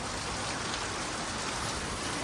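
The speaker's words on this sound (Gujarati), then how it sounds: "જો કેટલો વરસાદ છે" Heavy rain pours down steadily, a dense continuous hiss of drops drumming on surfaces with no voices.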